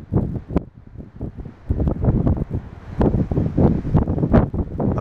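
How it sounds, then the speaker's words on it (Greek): The Gregale, a northeast wind, blows hard across a coastal cape by a lighthouse above a rough sea, roaring in repeated gusts against the microphone. "βρέγος φυσάει σήμερα"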